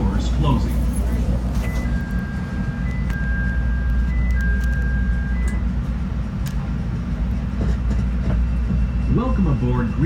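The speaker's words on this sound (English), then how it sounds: "This is a green line train to Harlem and Lake." Chicago Green Line elevated train running toward Harlem and Lake, a steady loud rumble with a constant low drone and faint rail clatter, plus whining tones from the motors.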